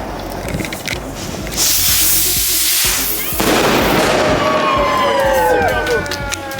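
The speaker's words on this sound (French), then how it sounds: "le concert de feux d'artifice est encore amplifié" Dense, continuous crackling and booming of fireworks fills a street in Berlin at night, loud and overlapping, with whistling rockets and a siren-like wail rising through it.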